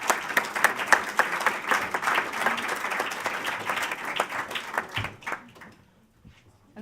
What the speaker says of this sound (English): So, big round of applause for Ruth, back on stage again.